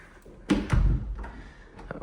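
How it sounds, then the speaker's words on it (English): A misaligned door over a washer and dryer on a second-floor landing of a residential unit swings shut with a couple of close thuds and a brief rattle, followed by faint lighter knocks. "this closes with a door"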